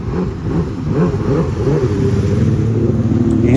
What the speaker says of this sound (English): He's riding an XFS competition skate with a 1200cc Dacia engine.